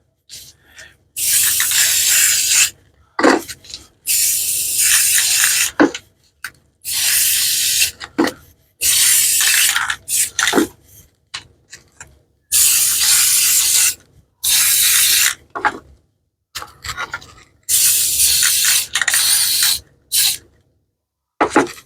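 Aerosol spray paint hissing in repeated bursts of one to three seconds as a coat goes onto a jack-o'-lantern, separated by short pauses and soft rattles, close and fairly loud, with no speech.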